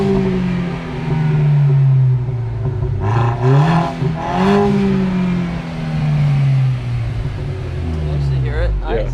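An Audi A4 B6 engine revs in a few loud swells, climbing and falling in pitch over a steady rumbling idle, with people talking nearby.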